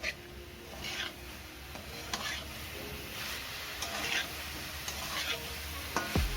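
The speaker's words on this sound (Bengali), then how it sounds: "খুব ভালো করে নেড়ে নিচ্ছি দেখো আলু আর ফুলকপিগুলোকে" Potatoes and cauliflower frying over high heat in a pan, stirred with steady scraping strokes over a continuous close sizzle, with occasional sharper utensil knocks against the pan and no talking.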